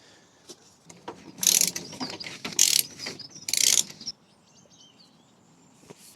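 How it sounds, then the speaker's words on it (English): A ratchet with a 21mm socket turns the crank of an Audi TT MK2 EA113 TFSI engine. Several close bursts of rapid clicking come in quick succession, then it falls nearly quiet. "just put this ratchet on. It's a 21mm socket"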